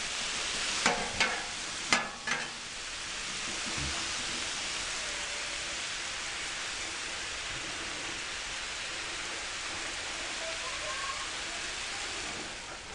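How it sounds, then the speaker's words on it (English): Chicken, potatoes and bacon sizzle on a Camp Chef flat top grill, a steady broadband hiss throughout with a few sharp utensil clicks and scrapes near the start. "we just wanted to get a nice sizzle on them"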